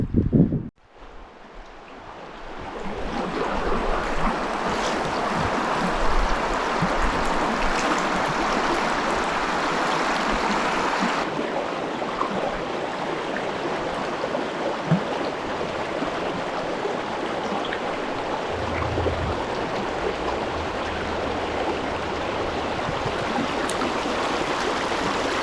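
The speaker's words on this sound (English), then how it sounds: "Beautiful little stream here." A small stream in Yellowstone National Park rushes steadily through the whole stretch, loud and close, a continuous broadband wash with some wind buffeting the microphone.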